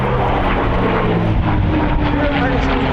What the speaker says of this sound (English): the sound of the Rolls-Royce Merlin engine, it is pure music.